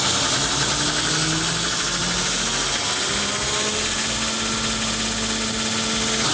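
A VEVOR belt sander motor run through a VFD converter ramps up, giving a loud, steady close mechanical whine and hum whose tones climb as speed builds, with no talk.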